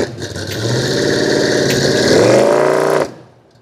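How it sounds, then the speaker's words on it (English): A wrecker truck's race-fuel-burning small block Chevrolet V8 revs up hard and close, holds a rising, throaty pitch for a couple of seconds, then cuts off sharply and falls quiet. "Dave's record is powered by a killer race fuel burning small block Chevrolet"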